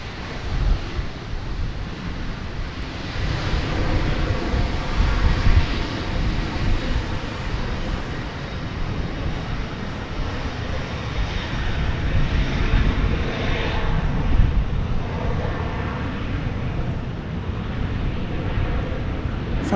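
A plane takes off from runway 36 right at DFW Airport, a steady, loud broadband engine roar lasting throughout and swelling slightly, with some wind noise.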